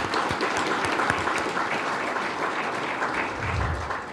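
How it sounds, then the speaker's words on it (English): An audience in City Hall claps steadily at a State of the City address, dense sustained applause from many hands filling the room without letting up. "So give them a big round of applause"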